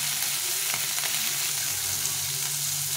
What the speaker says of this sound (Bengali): দুবারে মাছটা ভেজে নেবো।